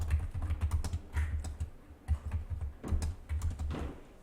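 Keys on a computer keyboard are pressed for the Ctrl+Alt+2 shortcut while working in illustration software, making a close, steady run of crisp clicks and taps.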